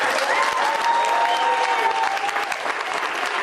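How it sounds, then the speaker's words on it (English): A crowd gives a big round of applause to the Backyard Bunch after their Ruth and Boaz performance, with steady, full clapping and a few voices cheering over it throughout. "Let's have another big round of applause"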